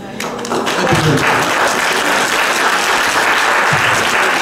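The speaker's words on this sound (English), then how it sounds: "Give another round of applause." A church congregation at a Black History program bursts into dense, loud applause that swells within the first half second and stays strong and sustained to the end.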